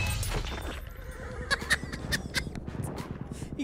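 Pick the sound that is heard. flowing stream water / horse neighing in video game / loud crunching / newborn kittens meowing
horse neighing in video game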